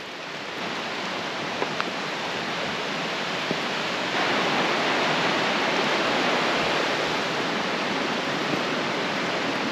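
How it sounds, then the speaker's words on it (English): A river flows beside a soggy winter campsite in California, giving a dense, steady rushing wash of water that stays constant and close with no voices. "This one is right next to the river."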